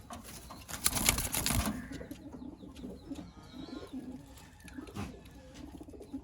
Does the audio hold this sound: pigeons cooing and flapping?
yes